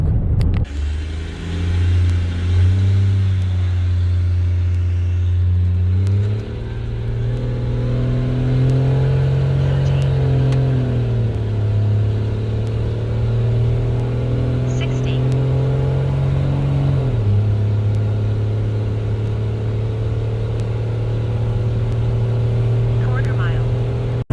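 A second-generation Cummins 12-valve diesel truck accelerating hard down a quarter-mile drag strip, its loud, close engine drone climbing in pitch through gear changes, with voices talking briefly over the roar.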